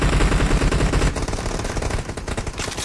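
Rapid automatic gunfire in the video game PUBG Mobile (Battlegrounds Mobile India), a dense and loud burst of continuous shots that runs through the whole moment with no talking.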